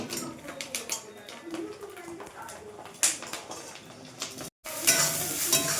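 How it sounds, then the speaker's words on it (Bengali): Onion frying in oil left from cooking eggs, alongside curry leaves and packet spice, a close crackling sizzle with stirring clatter throughout and a brief break before a louder burst. "ওই ডিমের তেলের মধ্যে পেঁয়াজ দিয়েছে, পেঁয়াজ।"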